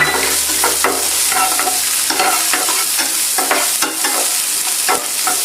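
Chopped onion tipped into hot oil with cumin seeds sizzles loudly and steadily, with frequent clatter and scraping of a spoon stirring through the pan, no voices.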